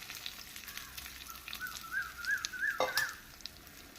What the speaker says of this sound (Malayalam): തേങ്ങയും ഇതെല്ലാം കൂടി ഒന്ന് മൂപ്പിച്ചെടുക്കാം